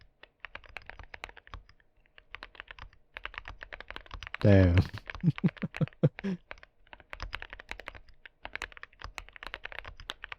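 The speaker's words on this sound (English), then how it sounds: "What it sounds like now. Keyboard recorded with the" Computer keyboard typing captured through ASMR microphones, crisp clicky keystrokes in quick bursts with pauses, interrupted by a short spoken exclamation from a man midway.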